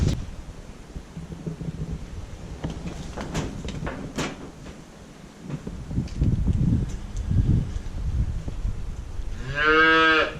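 Dehydrated calves, including a Jersey, mooing several times on a farm, with bellows spread through the clip and a loud, drawn-out moo near the end over low rustling and knocking.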